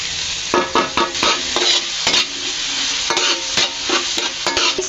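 Onion and garlic sautéing in a hot pan give a constant close sizzle broken by repeated scraping strokes of a spatula stirring, with no voices.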